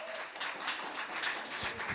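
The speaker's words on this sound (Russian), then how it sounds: "Следующего докладчика аплодисментами." Audience applause at a talk on analytics, a steady wash of many hands clapping through the whole stretch at moderate loudness as the next presenter is welcomed.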